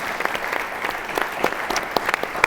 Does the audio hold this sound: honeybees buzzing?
no